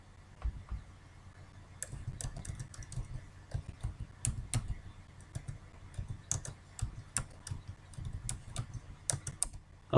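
Keys clatter on a computer keyboard as a password is typed, a close, irregular run of sharp clicks across the whole stretch with no talking.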